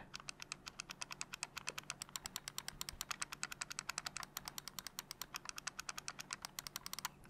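Rapid, crisp clicks of an ROG Chakram X gaming mouse button pressed over and over in a fast, even rhythm, very close to the microphone, with no voices.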